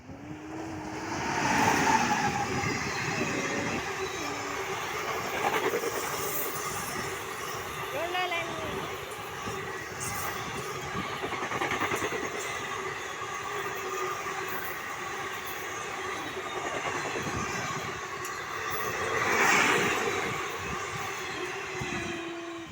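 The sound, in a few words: express train passing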